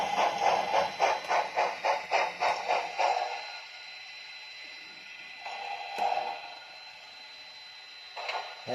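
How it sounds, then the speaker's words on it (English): A small model locomotive pulls away with a rapid rhythmic chuffing that fades into a quieter mechanical hum, then a faint clatter at the end. "With the train uncoupled, 354 pulls away."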